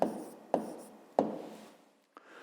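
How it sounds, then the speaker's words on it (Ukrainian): A pen or pencil writes an answer by hand on paper, making a few short scratchy strokes with sharp taps as it meets the page, quiet and close with pauses between. "Записуємо відповідь. Отже, пишемо 6"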